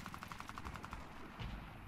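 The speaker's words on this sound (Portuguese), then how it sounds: "O tiro tá rolando lá embaixo." Video game gunfire in Warface, a rapid burst of automatic shots rattling off in quick succession, fairly faint and distant, followed by a heavier thump.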